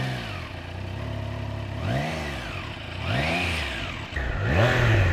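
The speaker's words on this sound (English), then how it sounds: "The stock exhaust system sounds brilliant for a standard bike." A 2021 Triumph Trident motorcycle with its stock exhaust revs in repeated rising and falling blips, each climbing and dropping back to idle, growing louder toward the end and heard close up with no talk.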